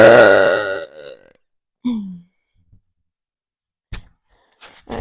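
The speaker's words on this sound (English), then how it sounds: "You should use my burps and use them as sound effects for the monster" A long, loud, deep burp rumbles into a close microphone in an indoor setting, followed by a short voiced grunt and a few faint clicks and brief noises.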